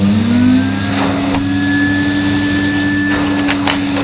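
A factory-sealed 2006 Numatic Henry vacuum cleaner running on its low power setting, its motor spinning up to a steady whine and hum, close and continuous, with faint clicks of the nozzle skipping over carpet.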